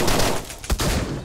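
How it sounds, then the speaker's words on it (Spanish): Gunfire in the video game Deadbolt, a dense, loud burst of rapid shots with a sharper blast near the middle, filling the short clip without speech. "Lo cago a tiros."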